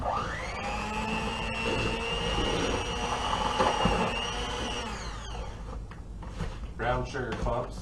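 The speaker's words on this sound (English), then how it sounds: "I like to use a power mixer because it makes it much easier." An electric power mixer beats muffin batter with a steady, loud whirring hum that runs several seconds, then slows and winds down into rougher, uneven churning.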